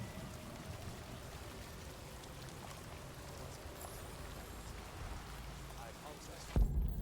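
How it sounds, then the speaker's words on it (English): Steady rain in the video game Detroit: Become Human patters continuously on a surface, a dense, even hiss throughout, ending with a short louder bump. "I can see clearly now, it's still raining"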